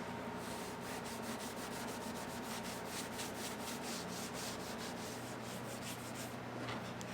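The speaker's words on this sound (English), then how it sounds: "Just got to clean off the residue, which hopefully works as well as it did in my tests" Laser-engraving residue being scrubbed off retro ray gun art, a steady close rubbing with a quick regular back-and-forth rhythm over a constant hum.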